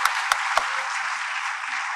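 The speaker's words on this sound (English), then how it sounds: "Huge round of applause." Audience applause at a Founder's Day lifetime achievement award ceremony, a dense steady wash of clapping with a few sharp claps standing out near the start, no voices over it.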